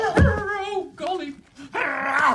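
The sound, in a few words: dog growling while biting a man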